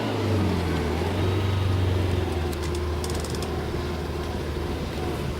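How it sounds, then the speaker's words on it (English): A newly bought car with a worn-out handbrake cruises along, its engine giving a steady low drone and road rumble from inside the cabin, with no talking heard. "So I'm gonna drive it now to the barber"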